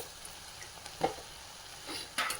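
Amla gooseberries, slit and ready, tipped into a pot of sambar and stirred, giving faint scattered clinks and scrapes with a soft splash near the end over a low steady simmer.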